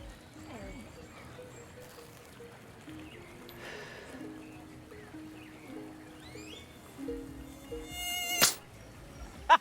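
Mosquito buzzing in a film scene, a thin whine rising and falling over a quiet background with sparse tonal music, growing louder toward the end.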